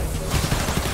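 Gunfire in the Marvel's Spider-Man Remastered video game, a quick burst of several close shots crackling over a dense background of game noise, lasting about a second.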